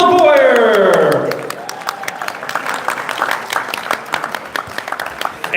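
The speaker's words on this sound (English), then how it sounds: "Join me in giving a round of applause for this year's Mead and Cider Maker of the Year" An audience applauds for the Mead and Cider Maker of the Year at a Kentucky State Fair homebrew awards event. A speaker's voice opens over the start, then dense clapping continues, moderately near.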